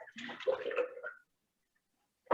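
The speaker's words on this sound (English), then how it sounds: "No, that would be my water that I'm cleaning my brush with." A paintbrush is rinsed in a small cup of water during acrylic painting, a close swishing and sloshing burst that stops abruptly, then a short clink at the end.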